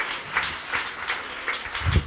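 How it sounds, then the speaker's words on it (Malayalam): Church congregation clapping in a short burst, a handful of scattered, fairly soft claps at an uneven rhythm. "ചർച്ച ഒരു ക്ലാപ്പ് കൊടുത്താട്ടെ."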